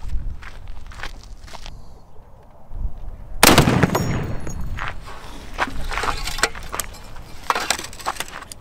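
A bazooka fires a practice round with a sudden loud blast partway through, followed by a rough, decaying rumble and scattered clatter after some quieter handling sounds.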